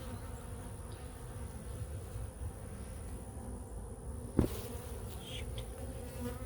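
Honeybees buzz around an opened hive frame during a pollen patty check, a continuous faint droning hum with one sharp knock partway through, and no talking.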